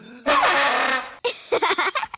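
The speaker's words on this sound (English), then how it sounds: "That's the sparl throttle." The sparl throttle, a silly cartoon elf musical instrument, lets out a loud, raspy, fluttering blast lasting about a second, then a voice speaks.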